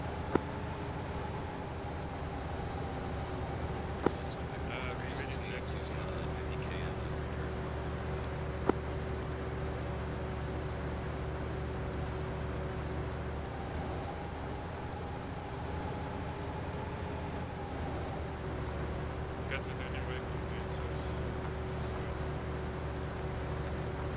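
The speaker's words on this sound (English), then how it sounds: "I really can't hear you over the noise of this engine." A military vehicle's engine in a combat video game drones loud and constant throughout, a steady low hum with a faint whine on top and a few small clicks.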